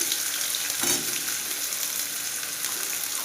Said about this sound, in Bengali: পেঁয়াজটা একটু ভালোভাবে ভেজে নেব